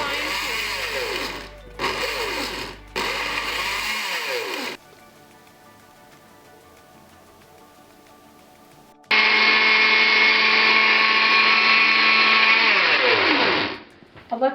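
Blender pureeing tomatoes for homemade ketchup whirs loudly in short bursts, pauses briefly, then runs a sustained high-speed stretch before spinning down.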